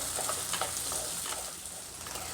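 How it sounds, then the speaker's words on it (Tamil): Onions sautéing in oil in a pan for a Tamil anchovy fish curry, a steady close sizzle and crackle with soft stirring scrapes running throughout. "நல்லா அந்த வெங்காயம்லாம் சாஃப்டாக ஆகணும், அந்தளவுக்கு நல்லா வதக்கிக்கலாம்."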